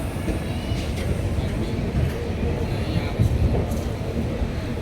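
Express train on an Indian railway, with a steady, close rumble and rattle of carriages and wheels on the track, continuous and fairly loud throughout.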